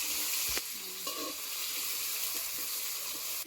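Chopped tomatoes fry in a pan for a Bengali cauliflower curry, making a steady, moderately loud hiss with a couple of utensil clinks and stirring scrapes close by, heard alone.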